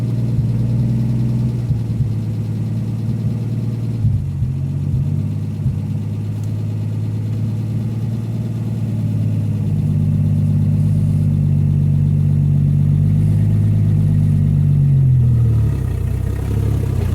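A 1958 AMC Rambler Super engine idles steadily, then rises into a longer rev that holds and drops back, a deep continuous hum with no talk.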